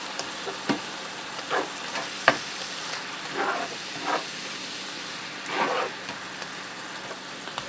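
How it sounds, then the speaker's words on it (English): White wine hitting a hot skillet during deglazing for beef stroganoff on medium heat, a steady hissing sizzle with several brief scraping stirs and a sharp clack, with no voices. "Alright, now I'm going to add in 1/2 cup of white wine. We're going to deglaze that pan of any remaining bits on the bottom."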